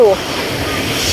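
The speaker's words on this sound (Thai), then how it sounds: "เนื่องจากลมพัด" Wind buffets the microphone on a Pattaya beach, a steady broadband rush lasting about a second after a brief tonal blip at the start.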